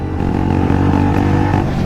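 A motorcycle with an aftermarket exhaust revs and idles loudly close by, its deep throbbing drone holding steady with no talk over it.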